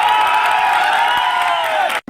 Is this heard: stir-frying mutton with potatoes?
no